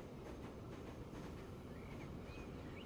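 A train rolling along a rail line in the Transport Fever 2 video game gives a steady, low, continuous rumble with faint clatter and a few light whistling tones, moderately quiet with no speech.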